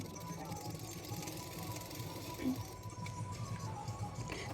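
Domestic sewing machine stitching a folded blouse edge, the back seam of a double katori blouse, runs in a steady low mechanical whir that stays fairly quiet and continuous throughout.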